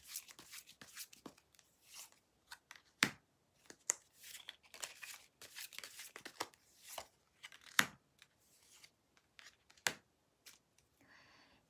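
Tarot cards being drawn and handled from a deck, with a run of soft papery shuffles, slides and sharp snaps at close range, spaced irregularly with quiet gaps between them.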